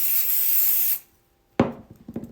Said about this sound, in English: I'm going to spray the second sheet